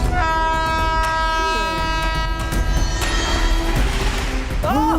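A train approaches on the railway track, a loud sustained horn blast over heavy rumbling rail noise, close and continuous, with raised voices breaking in over it.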